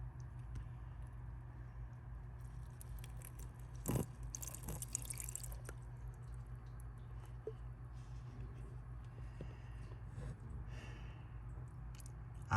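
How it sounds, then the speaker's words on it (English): Faint, irregular drips and trickles of water run from the drain of a Porsche 911's convertible top, heard outside the car over a low, steady background hum, with a slightly louder splash near the start. "I hear water dribbling"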